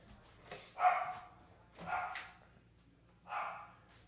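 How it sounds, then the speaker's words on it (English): A puppy barks in the background, three separate yaps spaced about a second apart, faint and somewhat distant, with no talk over them. "excuse me if you hear my little dog in the background"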